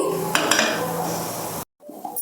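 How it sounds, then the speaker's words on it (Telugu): A metal cooking pot is set down on a lit gas stove with a couple of clanks and scrapes over the steady rush of the burner flame, then a brief silence and a soft clink. "గిన్నె పెట్టుకుందామండి"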